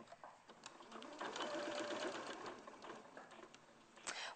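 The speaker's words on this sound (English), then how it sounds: "I might sew the top there, actually." A sewing machine runs steadily, stitching fabric toy pieces around a template, its fast needle whir close and continuous for several seconds with a few faint clicks.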